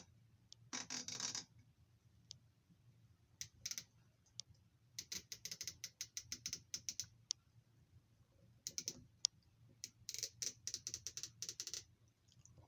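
Ratchet wrenches, a Mac 90-tooth and a Snap-on 100-tooth, clicking in close, quick bursts of fine, rapid ticks with short pauses between runs, no talking.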